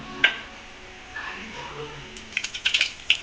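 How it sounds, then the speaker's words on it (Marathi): Mustard seeds and cumin are dropped into hot oil, giving a quiet sizzle that breaks into a quick run of sharp, close crackling pops toward the end. "तेल छान गरम झाल्यावर आपण मोहरी आणि जिरे टाकणार आहोत."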